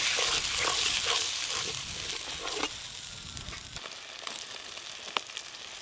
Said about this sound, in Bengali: মশলার উপরে জল দিয়ে আর একটু ভালো করে একসঙ্গে কষে নেব সব কিছু